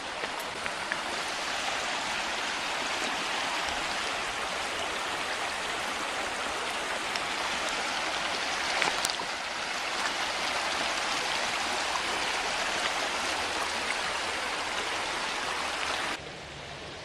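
The Grand River flows in a steady, broad rush of water that holds near and even for the whole stretch, with no talk over it and a brief drop in level at the very end.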